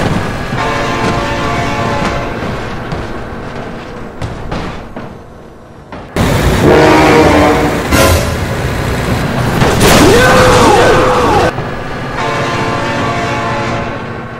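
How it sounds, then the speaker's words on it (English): A train passes close by with a loud rumbling roar and a long, blaring horn that swells and bends in pitch, then the rush fades to steady rail noise, all without speech. "Oh my God, train!"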